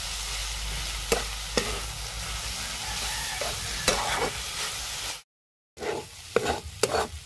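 Masala fries and is stirred in a pan while cooking outdoors in a village, giving a continuous close sizzle broken by sharp scraping and clacking of the spoon and a brief gap of silence.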